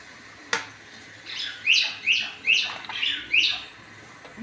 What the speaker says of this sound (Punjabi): ਚਿੜੀ ਕਿੱਥੇ ਬੈਠ ਕੇ ਬੋਲਦੀ